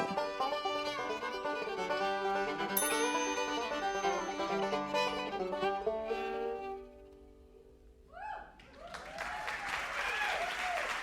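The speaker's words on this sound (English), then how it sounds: "At the sound of the chime, there will be 8 minutes to energy curfew." A chime rings out a countdown to energy curfew during a music show: layered, bright tones sustain and slowly decay for about eight seconds before a sudden noisy burst of clapping-like sound takes over.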